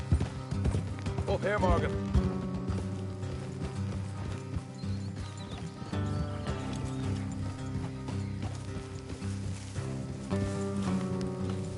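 Horses gallop in a video game, rhythmic hoof clip-clops running continuously under a game soundtrack, with a brief neigh early on and a character's voice speaking over the ride.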